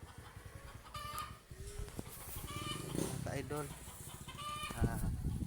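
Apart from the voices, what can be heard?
chickens clucking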